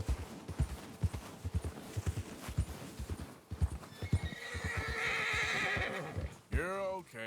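Horse in Red Dead Redemption 2 walking on a mountain trail, hooves clip-clopping steadily under talk, then a loud close whinny near the end.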